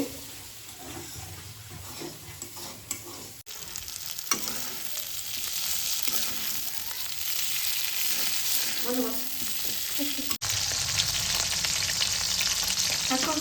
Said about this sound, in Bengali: মাছগুলো ভেজে নিচ্ছি